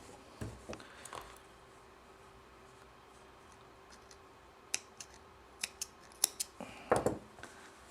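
Scissors snip crochet yarn with a handful of sharp, close clicks, sparse at first and then clustered near the end, with no voices.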